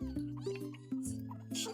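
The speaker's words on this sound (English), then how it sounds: "Being eaten alive by kittens." Hungry kittens meow insistently for a bottle, several close, repeated cries in quick succession, fairly quiet overall.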